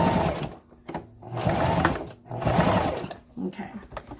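A sewing machine stitches a handbag seam in several bursts of rapid mechanical whirring, separated by short pauses, with a person talking over and between the runs.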